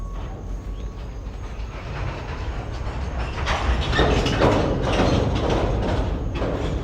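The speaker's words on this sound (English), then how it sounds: "the manifest train going into the yard" A Norfolk Southern manifest freight train rumbles past steadily in Chattanooga, Tennessee, a continuous heavy roar with rattling and clanking that swells louder partway through, no voices.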